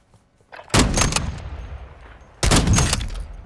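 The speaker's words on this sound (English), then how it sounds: "I didn't know this is a sniper rifle." Two sharp sniper rifle shots ring out in Call of Duty Modern Warfare II, each a loud crack followed by a booming tail that fades over about a second, spaced roughly two seconds apart.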